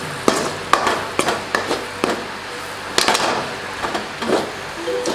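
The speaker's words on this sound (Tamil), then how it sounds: "ஒரு நிமிஷம் அப்படி நல்லா அந்த எண்ணெயிலே அந்த மசாலா நல்லா ரோஸ்ட் ஆகுறதுக்காக நீங்கள் நல்லா ஃப்ரை பண்ணிக்கோங்க" Spicy squid masala fries in oil in a pan with a crackling sizzle, punctuated by repeated sharp clacks of a spatula stirring and tossing at a brisk, uneven rhythm.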